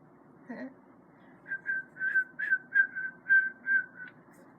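A person whistles a short, breathy tune of several clear notes, preceded by a brief vocal sound, close and moderately quiet.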